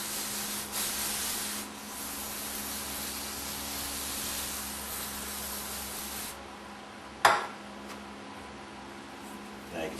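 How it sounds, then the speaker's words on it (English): Steady abrasive scraping and rubbing as crud is cleared out of a Meyer E 47 snowplow pump unit with its coil removed, continuing close and fairly loud, then easing off, with one sharp knock near the end. "Once you remove the coil, then you can get in there and scrape the crud out of it."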